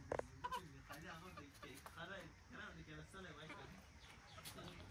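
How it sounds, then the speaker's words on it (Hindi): Aseel and desi chickens and roosters cluck in a cage on a farm house, the fowl sounds sitting under steady nearby talk throughout. "असील मुर्गियां हैं"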